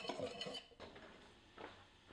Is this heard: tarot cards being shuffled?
no